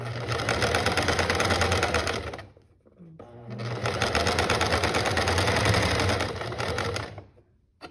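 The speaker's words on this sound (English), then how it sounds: "Now let me go and do my edge. And you can sew all the way along if you want." A sewing machine stitches along the edge of a fabric mask made from a repurposed carved case bag, running in two fast, loud, steady bursts separated by a short pause, then stopping.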